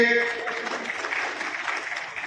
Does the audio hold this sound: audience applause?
yes